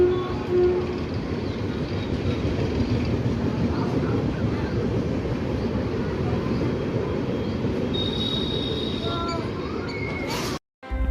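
Diesel or electric train rumbling steadily past a station platform on the New Delhi–Jalandhar Intercity superfast run. The dense, continuous roar holds near and loud throughout, with brief higher tones near the end, then a short dropout.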